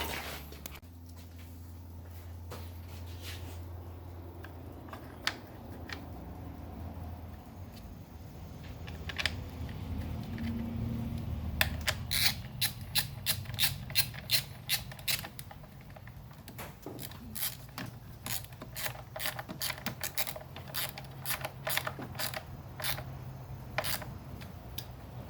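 A ratchet clicks in quick, rapid bursts while bolting a part onto an S10 truck with a 5.3L LS swap. Low mechanical handling noise comes first, then the clicks arrive as dense trains of sharp ticks in a close garage setting.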